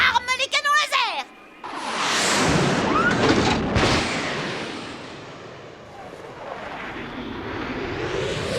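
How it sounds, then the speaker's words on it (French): Cartoon laser cannons fire in the animated series Norman Normal: after a short spoken line, a loud roaring blast erupts with crackling zaps, dips, then swells again into a sustained rumbling discharge. "Noogie, arme les canons laser!"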